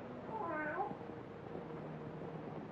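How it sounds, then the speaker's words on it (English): A cat gives one drawn-out, wavering meow early on, fairly faint against a steady low background hiss, in a 1942 black-and-white film scene set in a graveyard. "how often have I told you to keep that cat from desecrating my graves?"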